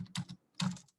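Someone types code on a faulty computer keyboard during a live data science class, two close bursts of quick clacking keystrokes with a short pause between them, nearby and clear with no talking.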